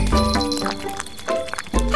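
Water is poured out for a small stray cat to drink in the animated series BoBoiBoy Galaxy, a short splashing, liquid pour lasting about two seconds and layered over a music-like tonal background.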